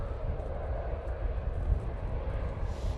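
A Ryanair plane taking off from an intersection departure at Manchester Airport makes a steady, heavy low roar of jet engines that holds throughout, fairly loud and distant-sounding with no talk.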